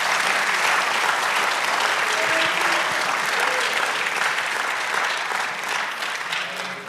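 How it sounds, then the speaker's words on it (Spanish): Church congregation clapping together in applause during a service, a dense, sustained wash of many hands that holds steady for several seconds and then tapers slightly at the end. "Por lo menos un aplauso."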